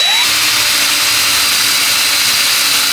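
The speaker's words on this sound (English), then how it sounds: "I can now drill my last hole for the center spotlight" A power drill bores a hole through a plasterboard ceiling for a center downlight spotlight, a loud steady whine held close up for the whole stretch.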